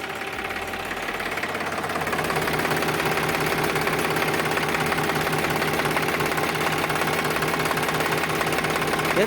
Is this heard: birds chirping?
no